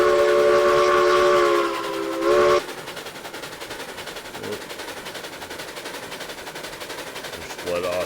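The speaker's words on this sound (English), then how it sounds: "Just let off some steam for the pure fun of it." Steam locomotive in the RailRoads Online video game sounds a loud, sustained multi-tone whistle for about two seconds, then vents steam with a hissing rush and a steady chuffing rhythm, and a short whistle blast returns at the end.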